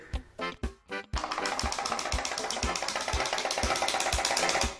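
A small homemade pop-pop steam boat built from a recycled tin can starts up after a few irregular bursts, then settles into a fast, steady put-put pulsing, close and fairly loud, running alone.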